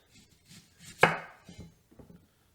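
A kitchen knife cuts through onions on a table, a few soft taps followed by one sharper, louder chop and several lighter cuts, close by and quiet.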